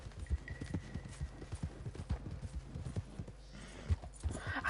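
Horse hooves clip-clopping in the Western video game Red Dead, a steady run of thudding beats close by with game ambience underneath.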